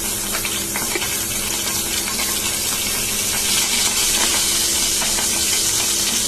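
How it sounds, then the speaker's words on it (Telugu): Mustard seeds spluttering and popping in hot oil in a pan while tempering with a pinch of turmeric, a steady dense crackling sizzle that holds close and fairly loud throughout. "ఆవాలు కూడా బాగా మరిగి సౌండ్స్ కూడా వస్తున్నాయి"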